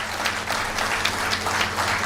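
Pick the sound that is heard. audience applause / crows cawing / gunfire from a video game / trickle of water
audience applause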